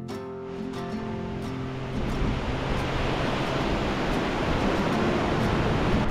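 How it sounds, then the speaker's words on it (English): Ocean surf rolls onto an empty beach in Far North New Zealand as a broad, continuous roar that swells louder partway through, with a musical tone fading out at the start. "check out the beach, see what the waves were doing"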